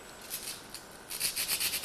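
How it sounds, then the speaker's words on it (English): A sanding stick shapes small tail-plane skin fittings and a spigot on a Drifter aircraft frame: quiet, close scratchy strokes, a few sparse rubs followed by a quicker run of rhythmic back-and-forth passes. "So next we just use the sanding stick,"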